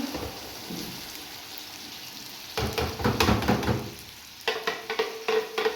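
Chopped tomatoes go into hot oil in a pan for an Egyptian stew, setting off a loud crackling sizzle after a quieter stretch, with stirring bursts and a second surge of frying near the end.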